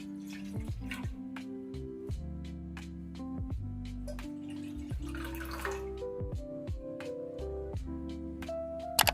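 Water pours into a pot for boiling two packets of Maggi noodles, a close trickling stream whose tone rises steadily as the vessel fills, with faint drips and no talking.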